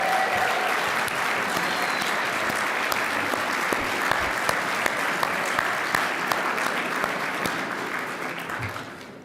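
Dinner audience at a 2023 LOC annual conference awards event breaks into sustained, dense applause, many hands clapping steadily for several seconds before it starts to thin out at the end.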